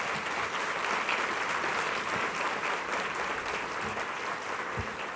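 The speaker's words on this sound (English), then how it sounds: "Please give them all a round of applause." A community healthcare awards event audience applauds in a steady, full wash of clapping from many people, even in loudness throughout with no talking.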